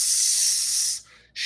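Body spray hisses from an aerosol can in one long steady burst close by, breaks briefly, then starts a second short spray.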